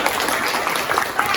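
Students in a classroom clap together in a steady, dense burst of applause, close and continuous with some voices mixed in.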